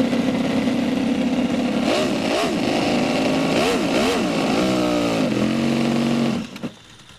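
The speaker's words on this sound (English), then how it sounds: "This is the smallest four-stroke production V8 in the world" A miniature four-stroke V8 engine, billed as the smallest production V8, fitted in a tiny Denso micro car, runs with a steady buzzing drone, blipping the throttle in several rising revs before cutting off abruptly.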